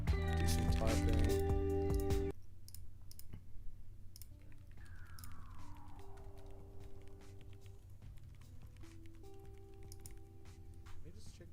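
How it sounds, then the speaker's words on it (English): Fingers type on a computer keyboard in quick, light, irregular clicks, set against background music that is loud at first and then settles into softer sustained tones. "Do some typing."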